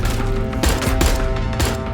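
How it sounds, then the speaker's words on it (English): Loud bursts of gunfire crack out in quick succession over a constant droning hum, heard from inside a craft's hull with shooting outside, a few sharp shots standing out close by. "Then suddenly, gunfire."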